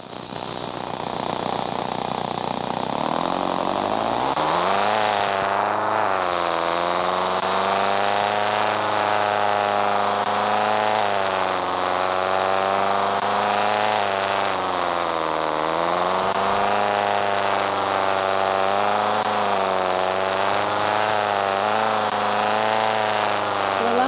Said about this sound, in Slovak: Počujte ten motor.